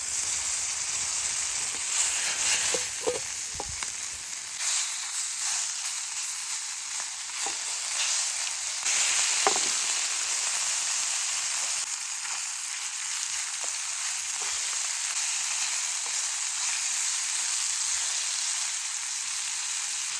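Fish and chicken fry in oil on a very hot pan at a night campsite, a steady close sizzle and hiss running throughout, with occasional stirring clatter and pops.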